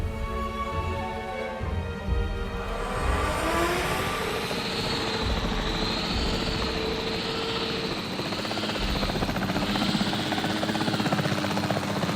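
A capture team helicopter in the video game Jurassic World Evolution 3 starts up with a rising whine, then holds a loud, steady rotor drone with a continuous chopping thrum and turbine whine for several seconds, with no talking.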